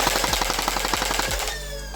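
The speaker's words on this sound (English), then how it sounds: "Firing 6 darts out of a 6-round magazine." A Nerf Strayven blaster fires six foam darts from a six-round magazine in a fast, rattling burst of sharp mechanical clacks over a motor whir, which then spins down alone.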